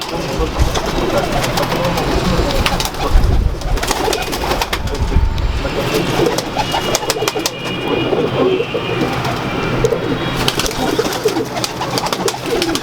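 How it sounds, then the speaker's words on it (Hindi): Pigeons of a Kasur breeder's flock coo steadily throughout, close and fairly loud, over a busy, noisy background with occasional faint voices. "जो पुराने मेरे कबूतर है मेरे पास"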